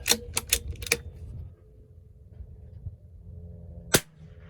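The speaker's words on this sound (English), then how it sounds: "watch those shots come in on the shot string" Rifle shots from a Vudoo V-22 strike a distant steel target plate, heard as a quick run of three sharp cracks followed by quieter ambience and then one more loud crack near the end.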